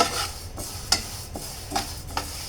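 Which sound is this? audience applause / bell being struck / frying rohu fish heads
frying rohu fish heads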